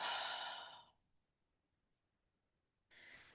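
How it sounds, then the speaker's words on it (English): A slow deep breath drawn in through the nose and let out through the mouth, heard as a soft, close airy rush lasting about a second, then quiet, then another breath beginning. "take a slow, intentional breath in through your nose and gently through your mouth"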